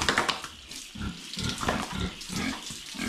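Pigs on a farm pen grunt and squeal in repeated bursts, close and fairly loud, over a steady background hiss on a warm morning.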